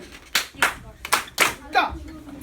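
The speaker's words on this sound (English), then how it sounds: "When I clap twice, you clap louder." A classroom of students claps in five sharp bursts, a couple of quick double claps among them, with a teacher's voice briefly speaking near the end.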